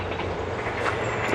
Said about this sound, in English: Train going through.